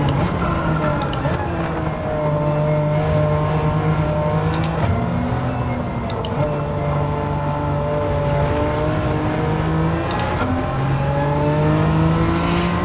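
A Ford Focus RS engine in Gran Turismo 7 hums steadily up close. It revs and climbs through the gears with clear drops at each shift, and tyre and road noise fill in underneath, with no talking heard.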